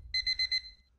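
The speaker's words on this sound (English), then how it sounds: "Alarm ringing." An alarm clock rings in a short burst of four quick, high electronic beeps, loud and close, with a faint low rumble beneath and no talking.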